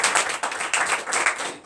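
A church congregation at a morning prayer service in Comè, Benin applauds for Jesus, a short stretch of dense, rhythmic group clapping that is fairly loud and close, with no speech over it.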